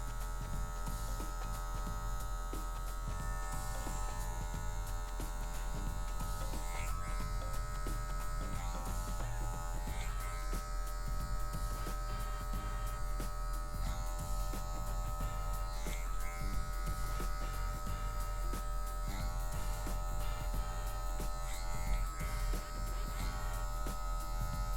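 An A1 electric hair clipper with its lever adjusted and a number 1 guard cuts a medium fade, giving a steady close-up buzz and hum that runs unbroken for the whole stretch, with no talking over it.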